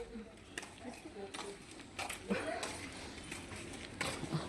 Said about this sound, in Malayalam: ഇല്ലെങ്കിൽ അവിടെ ഒരു പട്ടിയുണ്ട്